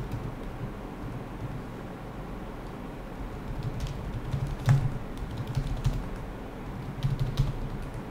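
An address is typed on a computer keyboard during an online UK visitor visa application, with soft irregular key taps over a quiet room hum and scattered louder clicks near the end.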